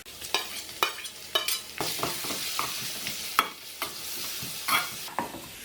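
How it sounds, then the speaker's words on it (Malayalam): Chopped onion, carrot and tomato sauté in a hot pan with a continuous sizzle, broken by repeated sharp scrapes and stirs of a spatula at a loose, uneven rhythm. "ഇത് നന്നായിട്ട് നല്ല രീതിയിൽ വഴറ്റിയെടുക്കണം."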